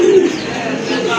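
A female pigeon at a pigeon farm gives a short, low, throaty coo at the start, close to the microphone, followed by a steady background hum.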